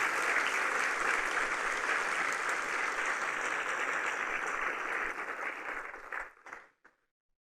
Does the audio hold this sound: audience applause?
yes